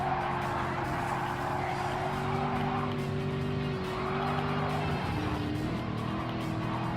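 Race cars in Gran Turismo 7 pass a Corvette C7, engines droning at steady high revs with shifting pitch and tire squeal, loud and continuous.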